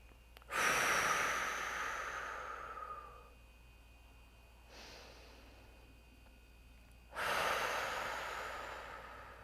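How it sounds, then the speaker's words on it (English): Deep, slow breathing during a prenatal yoga breathing exercise: two long, loud airy exhales a few seconds apart with a softer breath between them, close and quiet in between. "Take as many breaths as you want here."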